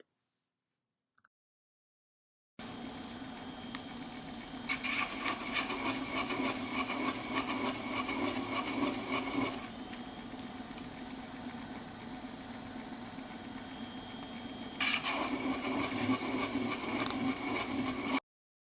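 A gem faceting machine runs its polishing lap against a stone facet, a steady motor hum with a grinding, rubbing buzz that swells louder in two stretches, close and continuous, without voices.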